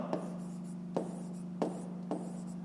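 Pen writing an answer by hand on paper, four sharp taps of the pen spaced through a quiet, close stretch with a faint steady hum underneath.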